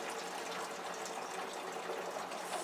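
Water pours steadily out over a sink in a continuous hissing, splashing gush that stays even and moderately faint throughout, with no talk.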